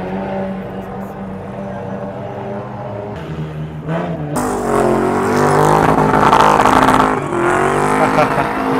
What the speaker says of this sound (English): The sound from these racing cars is too loud, but it is amazing, guys.